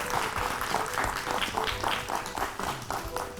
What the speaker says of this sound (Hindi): हो जाए जोरदार तालियां